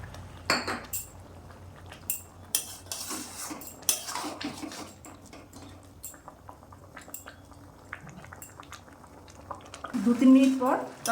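A pot of banana flower and prawn curry is stirred with a utensil, scattered clinks and scrapes against the metal, ending in a thicker bubbling churn, with a voice talking faintly in between.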